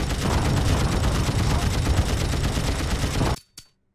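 Aircraft machine guns fire in the Wings Remastered flight combat game, a loud continuous rattling burst that cuts off abruptly near the end, followed by one short final shot.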